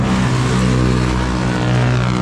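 A passing jeepney on a street in the Philippines, a loud, close, continuous engine drone with low rumbling tones that hold steady throughout.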